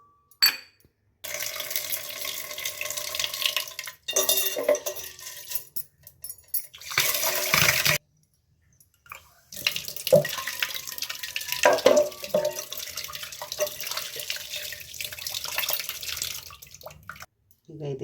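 Lentils washed in water in a bowl for sambar, with splashing, sloshing and rattling of the bowl in bursts between pauses, close by, with someone speaking at times.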